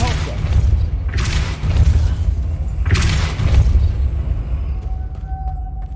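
Depulso spell cast in the video game Hogwarts Legacy, two deep booming blasts about two seconds apart over a continuous low rumble of game ambience, with a faint tonal hum near the end.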